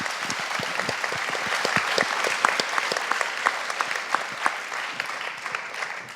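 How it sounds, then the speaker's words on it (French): An audience claps steadily at a round-table forum on finding meaningful work, producing dense, continuous applause with crisp individual hand claps throughout, moderately close and without pauses. "si vous voulez bien les applaudir à nouveau, ça serait top"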